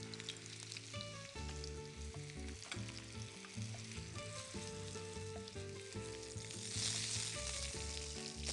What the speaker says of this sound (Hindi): पहले हम सॉसेजेस को थोड़ा सा कलर दे देते हैं, यानी कि इसको पैन में ग्रिल कर लेते हैं।